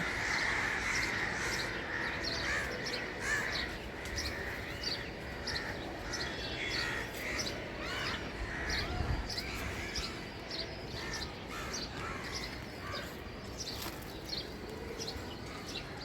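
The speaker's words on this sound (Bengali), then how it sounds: "কাকের যে কি মিটিং চলতেছে আল্লাহই জানে এত কাক একসাথে উঠতেছে" A large gathering of crows caws together around rooftop buildings beside a terrace garden, many overlapping calls at a moderate distance in a busy, continuous chorus.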